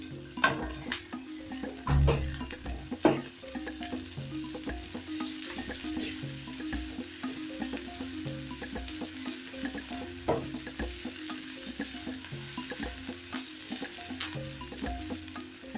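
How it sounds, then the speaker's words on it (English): Garlic fries in a pan for a gizzard dish. A steady, faint sizzle runs throughout, broken by occasional stirring scrapes and light clinks of a utensil against the pan. "Then I'm also going to add in my garlic."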